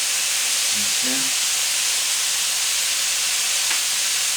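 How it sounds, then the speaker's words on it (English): Beef sears in a hot pan, giving a loud, constant hissing sizzle that fills the scene, with a brief word spoken early on. "Keep that pan nice and hot so it can sear."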